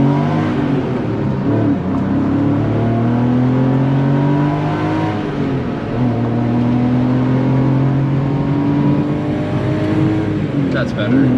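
A Porsche 993 accelerates hard, heard from inside the cabin with the window open. The loud engine note climbs and drops through gear changes in a continuous, close roar.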